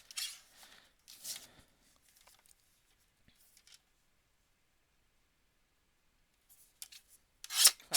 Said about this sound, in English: Let's go ahead and trim this down.